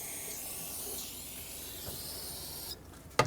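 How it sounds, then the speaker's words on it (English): Brake parts cleaner sprays from an aerosol can onto engine fuel injectors, a steady hiss of several seconds that stops abruptly, followed by a brief clatter. "I'm going to spray brake parts cleaner on all of them."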